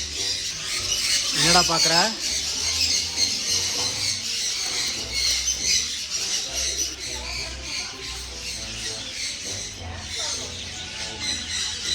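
Pet birds squawk and chirp in harsh, repeated calls while being fed, loud and close, with a person speaking briefly over them.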